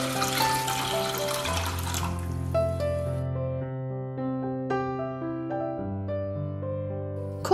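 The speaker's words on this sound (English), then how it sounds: "Pour water into the pot." Water pours and splashes into a pot for about two seconds beneath gentle background music, then stops, leaving only the music.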